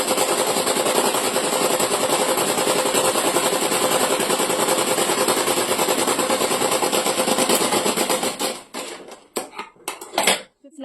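A sewing machine stitches a pajama seam in a fast, even mechanical whir that runs continuously, then breaks into a few short stop-start bursts and clicks near the end.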